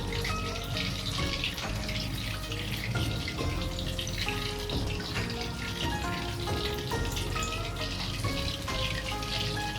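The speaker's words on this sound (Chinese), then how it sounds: "把油烧到5成热，下入鸡排。" Chicken cutlets deep-fry in oil heated to medium temperature over a low flame, a dense steady crackling sizzle with scattered pops, close and continuous with no voices.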